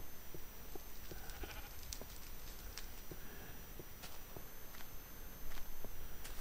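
Sheep bleat in a blocky Minecraft-style video game, a few short calls over steady game noise, mixed with footstep-like clicks.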